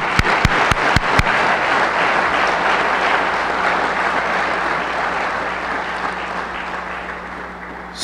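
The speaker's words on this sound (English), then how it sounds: "a round of applause for Scott as we begin" An audience at the Eastern Michigan University press conference introducing Scott Wetherbee as the new athletic director claps in a full, sustained round. A few sharp, close claps stand out at the start, then the sound settles into an even roar that lasts eight seconds.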